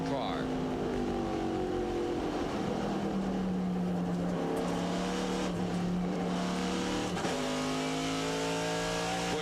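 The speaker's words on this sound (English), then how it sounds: "Another look, this from Joe Nemechek's in-car." In-car sound from a NASCAR Busch Series race car at Charlotte in 1998, its engine roaring loud and close with rising and falling pitch through gear changes, while a commentator talks over it.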